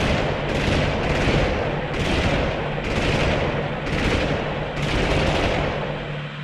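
A jeep's mounted gun fires in the video game Army Men 3D, giving loud repeated bursts of automatic fire in a steady rhythm of roughly one-second pulses with no pauses.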